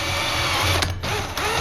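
An 18 volt Bosch cordless drill fitted with a 4.5 inch hole saw cuts slowly into wood, its motor whirring steadily and loudly with a couple of brief dips in pitch and pressure.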